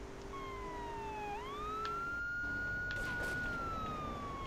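A police car siren in Grand Theft Auto III wails in a long rising and falling sweep, loud and close, over a steady engine rumble.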